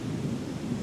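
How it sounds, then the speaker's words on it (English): Low, continuous rumble of distant thunder during a storm, a steady muffled roar without any distinct claps. "wonder if you can actually hear all this thunder going on in the background on my camera."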